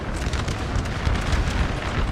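Artillery fire rolling across a Napoleon: Total War multiplayer battle, a dense, continuous rumble of overlapping booms and cannon blasts, loud and steady with no voices.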